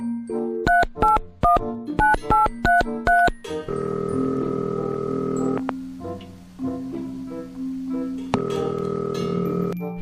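A phone is dialed with a quick run of short beeping keypad tones, then a steady ringing tone plays in long repeated bursts, loud and close with no voices.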